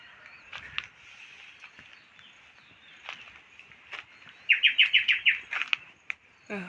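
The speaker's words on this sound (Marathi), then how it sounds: "पक्षी बघाशी मधुर आवाज एकदम सुंदर" Monsoon birds chirp outdoors at a moderate distance in a cashew orchard, with scattered calls and then a quick rapid series of bright trilling notes, light rustling underneath.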